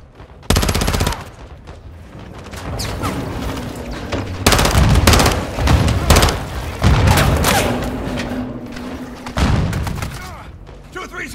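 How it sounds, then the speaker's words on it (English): Call of Duty Modern Warfare 2 combat erupts with automatic gunfire bursts, heavy booms and thuds of grenade launcher fire, loud and chaotic, while soldiers shout over the din. "They're launching grenades!"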